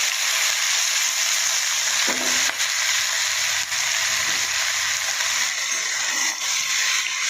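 Vegetables, among them spinach, greens, kohlrabi, aubergine and potato, sizzle in a pan of fried onions, a loud steady frying hiss that runs throughout with a brief stir or clatter partway through.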